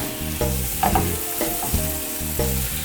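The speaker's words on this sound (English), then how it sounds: "we're adding the beef to the mixture and we're gonna cook it for 5 more minutes with the beef" Beef fries in a pan with onions and mushrooms for a stroganoff, a loud steady sizzle broken by repeated spatula stirs and scrapes, with no talking.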